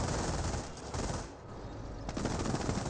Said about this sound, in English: Rifleman squad does receive a bit of MG42 fire now.